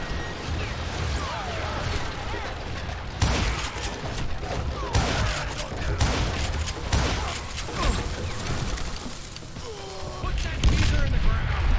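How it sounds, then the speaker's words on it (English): Chaotic gunfire bursts and heavy blasts from grenade explosions in the Western shooter game Call of Juarez Gunslinger, with repeated loud cracks and booms layered over a dense battle din, while a voice talks intermittently. "Stop throwing grenades at me"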